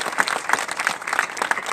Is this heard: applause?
yes